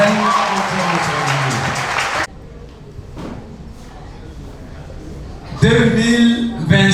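A church congregation applauds the Lord at a New Year's Eve service. Dense, loud clapping from the crowd stops abruptly, a quiet stretch follows, and then voices and music swell back in.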